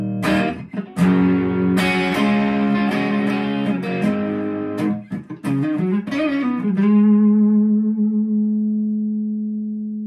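A Gibson Les Paul electric guitar on its bridge pickup with volume at 8 plays distorted, echoing chords and picked notes, ending on one long sustained chord that slowly fades.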